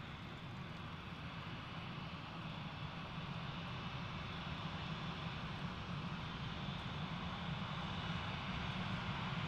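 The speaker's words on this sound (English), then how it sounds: "As that Airbus A220 leaves, that A321 heads towards the gate." Airbus A220 jet departing Gerald R. Ford Grand Rapids International Airport, a steady broad engine roar held at constant loudness throughout, distant but full, with no speech over it.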